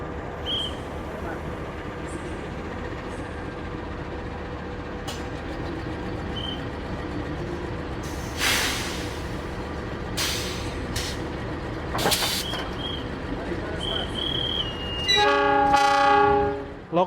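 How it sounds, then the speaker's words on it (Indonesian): Indonesian CC 206 diesel locomotive being coupled to the Harina passenger train, with a steady engine rumble and hiss, a few sharp metallic clanks, then a loud, near train horn blast at the end. "Ini nih, lokomotif dari kereta api Harina bakal dipasang ya teman-teman."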